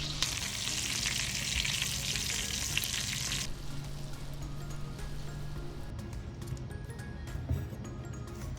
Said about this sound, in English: We'll let that butter melt and get infused, and then start basting our steaks.